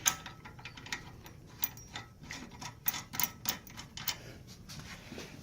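A spindle nut is threaded by hand onto the spindle of a Dodge B/C/D100-200 truck, making a quiet run of small metallic ticks and clicks in an irregular rhythm, close and faint, with no talk.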